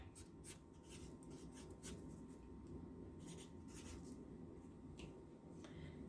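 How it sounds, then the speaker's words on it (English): A pen scratches out a time and date by hand on a plant-sowing container, with quiet bursts of scribbling strokes against a low steady background hum. "we're going to write time and the date"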